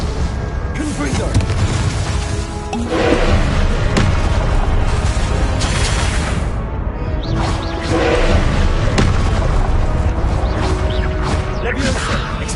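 Repeated Confringo spell explosions burst in a Harry Potter video game, heavy booms and crashes rolling continuously over a dense, loud wash of game effects.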